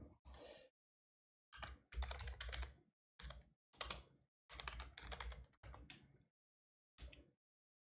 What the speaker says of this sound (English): Actually, I'm gonna type it in the chat.